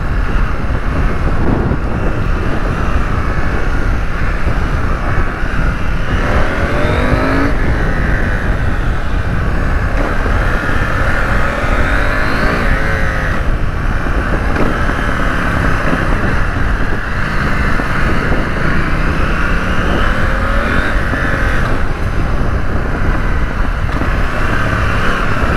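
KTM Duke 790 motorcycle pulling hard in first gear, the engine note rising and falling in several surges under constant loud wind rush, heard from the rider's position with no talking.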